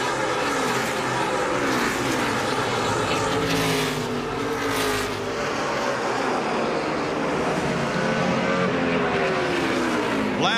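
NASCAR Sprint Cup race cars roar around the track in a steady loud drone of engines, with passing cars swelling and fading under faint commentary.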